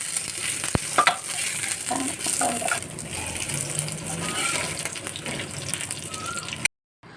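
Tongue fish frying in a pan, a continuous close sizzle broken by spatula clatter and stirring noises, ending in an abrupt cut.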